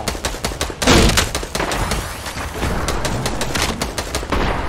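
Rapid bursts of gunfire in a video game shooting at the player, loud and close, with dense overlapping shots and a heavier blast around the one-second mark.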